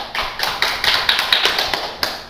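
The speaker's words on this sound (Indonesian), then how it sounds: "Beri tepuk tangan dulu untuk kelompok 1." A classroom of students claps for a group after its presentation, loud sharp claps landing in a fairly regular, rhythmic pattern of repeated bursts, close by with no talking.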